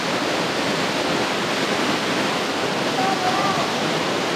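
Thunderous roar of Niagara Falls heard from the passage behind the falls, a dense, steady wash of falling water filling the space without pause, loud and close, with faint dripping water in the mix.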